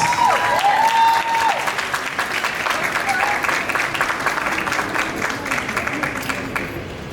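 Sustained audience applause at a Mr. World Jamaica pageant coronation fills the space, dense and steady, while a voice speaks over it at the start.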